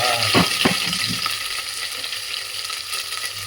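Mustard seeds and spices crackle and sizzle in hot oil as a tempering for vegetable sambar, with a few sharp pops early on over a steady close frying hiss.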